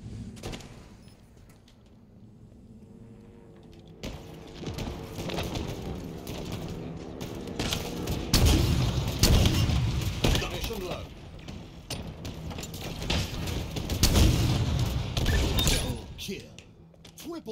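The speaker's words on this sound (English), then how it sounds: "I start with the rocket launcher and a pistol." Rocket launcher and pistol fire in Halo Infinite Fiesta mode: loud bursts of explosions and sharp shots cluster in the second half, rising and falling, with a voice talking over much of the action.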